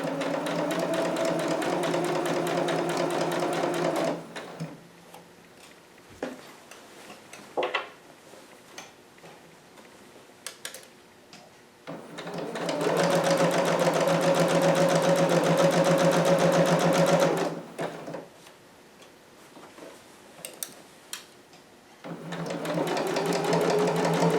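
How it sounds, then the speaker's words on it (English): A sewing machine stitches fabric in rapid, humming bursts of needle clatter, a short run, a long stretch, then another, with quiet handling and faint ticks during the pauses between. "Now using a regular stitch, I'm just going to stitch a little, then back stitch, and then continue."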